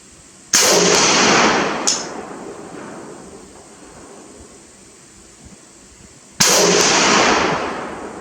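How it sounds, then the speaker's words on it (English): A French MAS 49 rifle fires two loud, sharp shots several seconds apart outdoors, each followed by a long rolling echo that slowly fades, with a faint click between them. "We'll shoot 3 rounds this time."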